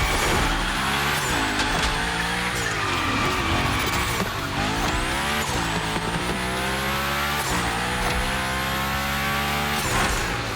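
A car in The Crew Motorfest gymkhana drifts continuously, engine revving hard with repeated rising and falling tire squeals across the run, loud and close with no talk.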